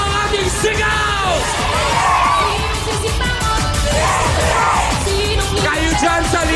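A live crowd at a TV talk show yells and cheers together in answer to the host, a dense, loud wall of shouting voices that swells and rises in waves throughout.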